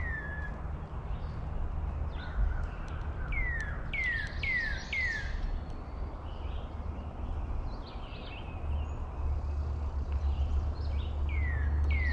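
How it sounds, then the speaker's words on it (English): Morning birdsong outdoors at a campsite: several birds whistle short descending chirps in repeated bursts at moderate distance, over a steady low rumble and faint insect hiss. "enjoy the sound of the birds"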